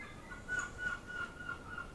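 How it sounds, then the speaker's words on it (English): Seagulls call faintly from a distance in a series of thin, repeated cries over a low, steady background hum. "Oh, the seagulls are on full throttle."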